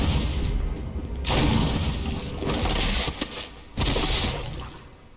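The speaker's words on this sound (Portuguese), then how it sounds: "ele demorou um pouquinho a mais do que eu esperava pra cair com esse tiro explosivo lança-granadas" Explosive grenade launcher rounds fire in the Resident Evil 1 HD Remaster, heavy booming blasts landing in a few separate bursts over a continuous rumbling game backdrop.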